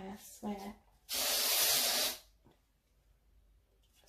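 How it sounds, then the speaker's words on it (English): Fly spray from an aerosol can hisses in a single steady burst of about a second, close and loud, with talking just before it. "I got my daughter to bring in the fly spray before"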